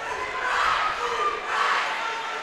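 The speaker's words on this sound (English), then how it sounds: "the crowd goes nuts as they reach the 75-point mark" A basketball crowd at a boys' high school game, Preston vs. Burley, cheers loudly as the team reaches 75 points, with two swelling waves of roaring and shouting voices.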